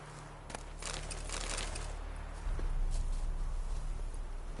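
Hooves of a horse named Roach patter in a video game, a few soft irregular clops over a steady low rumble that grows louder partway through, with no voices.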